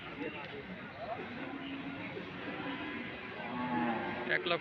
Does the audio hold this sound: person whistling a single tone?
no